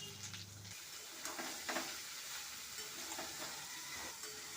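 Ash gourd pieces frying in spiced oil with turmeric in a pan, a soft steady sizzle with occasional scraping stirs, quiet and close with no speech.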